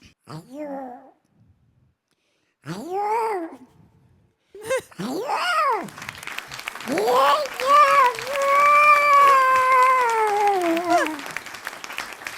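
A human voice imitates a cat giving birth, with strained yowls and moans, several short wailing cries building into a long, loud, drawn-out caterwaul, at a comedy show.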